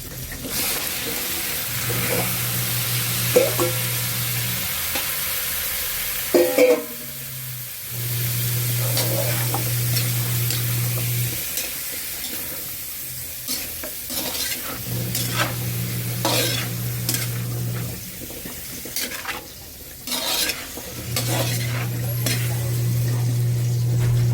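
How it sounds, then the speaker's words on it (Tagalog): Chayote sautés in a pan for a simple ground-meat dish, a loud continuous sizzle broken by repeated scraping stirs of a utensil against the pan and a low hum in bursts. "Ilalagay ko na itong sayote."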